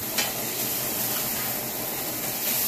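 Squirrel meat sears in a hot pan with a steady, close broadband sizzle and hiss that holds at an even level throughout, with no talking.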